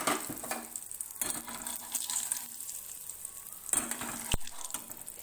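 Asafoetida hits hot oil in a silver kadai, giving a brief close sizzle with bursts of crackling and a sharp clink of metal near the end.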